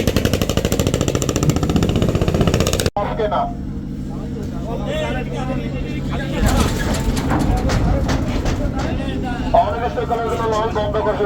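A passenger launch crossing from Tazumuddin to Ilisha in the Bhola island district runs its engine in a loud, continuous droning rumble, with voices and crowd babble over it and a brief cut partway through.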